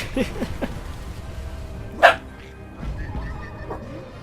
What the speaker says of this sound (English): my dog's gone nuts